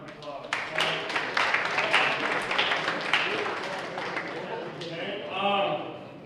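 A football banquet audience gives a round of applause, producing scattered, moderate clapping while a voice talks over it.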